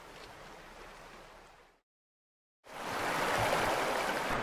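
The Fraser River rushes in a steady broadband wash that cuts out to silence for under a second, then returns louder.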